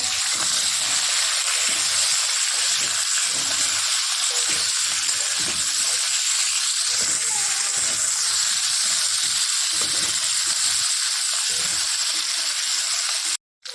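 Mixed vegetables with potato frying in a pan make a loud, steady sizzling hiss, close and unbroken, with faint stirring underneath until it cuts off abruptly.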